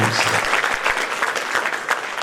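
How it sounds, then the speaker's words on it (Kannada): An audience at a public ceremony applauds the children, a dense burst of many hands clapping close by that continues steadily without pause. "ಎಲ್ಲ ಮಕ್ಕಳಿಗೆ ದಯಮಾಡಿ ಒಂದು ಚಪ್ಪಾಳೆ"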